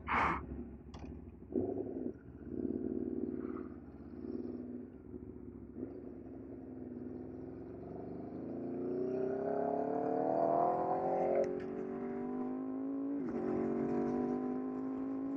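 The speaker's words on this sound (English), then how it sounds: "especially with how loud the damn bike is" A new motorcycle engine at a cars and coffee meet, revving up through a rising whine after a few short blips, loud and close, then settling back.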